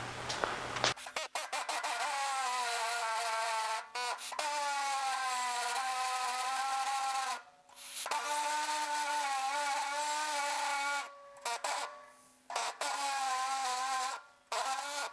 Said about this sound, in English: Let's try one cutting with the air saw through here